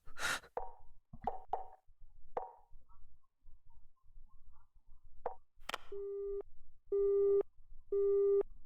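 A telephone rings in the video game Chaos;Child, three evenly spaced electronic ring tones at the end, after scattered soft knocks and plops in a quiet scene.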